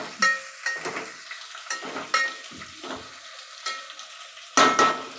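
Onion frying in a pan while a utensil stirs it, with repeated scraping strokes and bursts of sizzle at an uneven rhythm, close and fairly loud with no talking.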